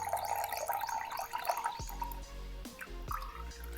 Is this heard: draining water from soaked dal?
yes